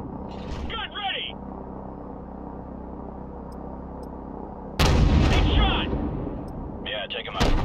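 An AC-130 gunship fires its cannons in Call of Duty 4: Remastered, heavy booming blasts with a loud sustained roar midway, under radio chatter from the crew.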